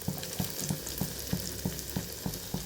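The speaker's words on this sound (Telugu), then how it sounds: "సో ఇదంతా మనం ఎగ్ మిక్స్ చేసుకున్నాం కదా, ఇప్పుడైతే ఇందులో వేసేద్దాం." An onion omelette's egg mix fries in plenty of hot oil, giving a steady close sizzle with soft rhythmic stirring taps throughout.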